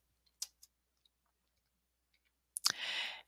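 A few light, sharp computer mouse clicks come close together in a quiet room, followed by a brief rustle.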